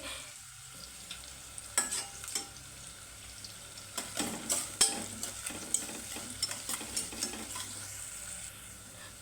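Curry leaves fry with a steady sizzle in a pan, with a few sharp pops and spatula scrapes as they are stirred, close and fairly quiet throughout with no talking.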